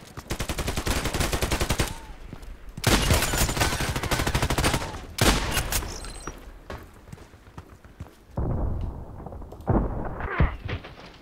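Gunshots in the online shooter Contract Wars come as loud rapid bursts of close automatic fire, broken by short pauses and followed by a few separate shots near the end.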